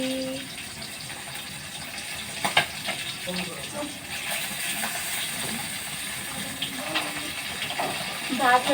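Fish frying in a pan in a home kitchen, a steady hiss and sizzle of hot oil running throughout at moderate loudness, with occasional crackles and pops from the pan.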